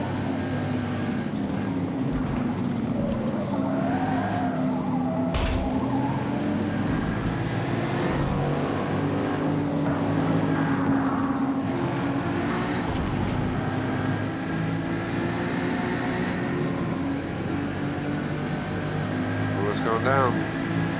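A race car in Forza Motorsport, from a Super Sedans race with a damaged, failing tire, giving a continuous droning engine note that rises and falls steadily throughout, with a voice talking over it.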